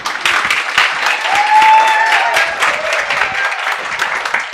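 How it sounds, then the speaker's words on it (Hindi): A crowd of show audience members applauds steadily and loudly, dense clapping sustained throughout with a faint whistle or voice rising briefly in the middle. "एक बार ताली बजा दो"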